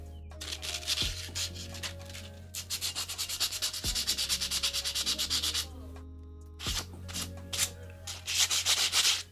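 A cosplay prop being sanded by hand in long, rhythmic rubbing strokes, loud and close, in steady runs broken by short pauses.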